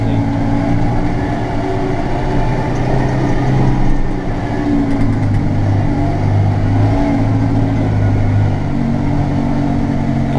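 A Case tractor pulling a trailer rumbles loudly and steadily as it drives up on a farm during haylage work, its engine note shifting slightly as it nears, with no talk.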